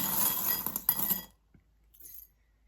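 Small hard objects clink and jingle together for about a second, then a faint brief rattle follows after a pause.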